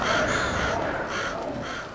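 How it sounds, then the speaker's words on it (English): Crows caw in the video game Alan Wake 2, two or three harsh, close calls spaced across a couple of seconds over a dim ambient backdrop, no talking. "The crows."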